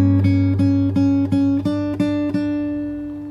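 A fingerstyle acoustic guitar plays a bar of the chorus of a song: about seven evenly spaced plucked notes over a held, ringing chord, close and clear, then fading out with no talking.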